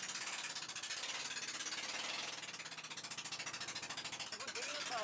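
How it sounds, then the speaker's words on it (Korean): Pull-started bangka boat engine running steadily at sea, a rapid chugging putter like a farm tiller, loud and continuous throughout with a faint voice partly beneath it. "이제 방카 보트가 서서히 움직입니다. 예초기 시동 거는 것처럼 줄 잡아 당겨서 시동을 걸더라고요. 그리고 경운기 소리 내면서 달립니다."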